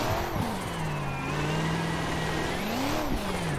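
Loud, close BMW E92 engine in a racing game, rising in pitch in third gear, holding a steady drone, then climbing again near the end.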